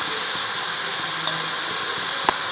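Tomatoes and mixed vegetables sauté together in a hot pan, giving a steady, even sizzling hiss with a couple of faint clinks, no voices.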